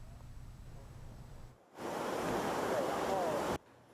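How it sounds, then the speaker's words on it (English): Typhoon-driven ocean waves crash across the breakwaters at Fugang Fishing Port in Taiwan, a roaring broadband surge with wind noise that swells loudly after a brief cut and then drops away. "Ocean waves are whipped up high by fierce winds. They crash across the breakwaters, rushing toward Fugang Fishing Port."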